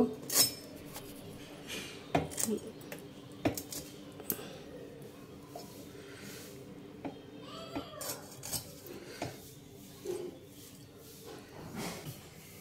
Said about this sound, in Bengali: মাছটা এখন কেটে নেব।